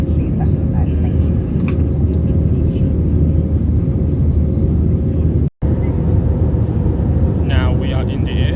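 Cabin noise aboard a British Airways Airbus A320-200 in flight, a loud continuous low rumble and engine roar that fills the space, with a very brief dropout partway through.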